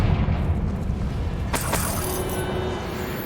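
Spell blast from the Confringo fire curse in Hogwarts Legacy, a sharp crack followed by a second burst over a steady low rumble of game ambience, then a faint lingering tone.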